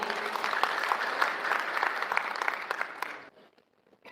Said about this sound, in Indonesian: Kita berikan aplaus dengan mulia.